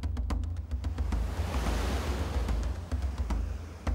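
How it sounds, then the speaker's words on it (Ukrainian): Roaring water of the Dnieper river rushing below rocky crags, a steady broadband wash of fairly faint, continuous noise with scattered sharp clicks and no voices. "Під ногами ревіла вода"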